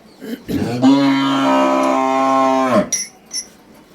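A Jersey cow, a first-calf heifer with a light brown coat, gives one long, loud, close moo lasting about two seconds, with short snorts and breaths before and after it.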